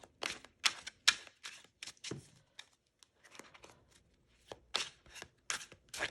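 A Fifth Spirit tarot deck is shuffled up close, with quick papery bursts of cards riffling and slapping together in uneven clusters, separated by short quiet gaps.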